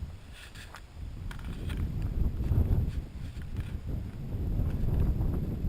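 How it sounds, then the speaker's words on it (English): Gusty wind buffeting the microphone in low rumbling bursts that swell and ease, with no one speaking. "Sorry about the wind."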